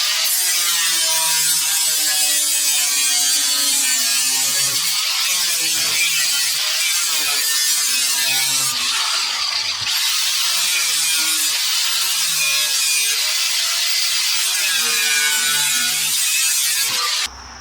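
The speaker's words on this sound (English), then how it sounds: "I'm going to cut it out with the angle grinder" An angle grinder cuts metal for a forged shovel with a loud, continuous high-pitched whine and grinding screech, wavering slightly in pitch as the disc bites, close by with no pauses.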